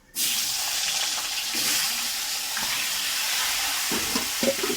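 A rohu fish head frying in hot oil tempered with bay leaf, dried red chilli and cumin, giving a steady, close sizzle for several seconds with a few sharper crackles and spits toward the end.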